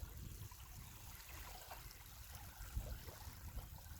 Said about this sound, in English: the sound of the water and the sound of the wind are superimposed on the silence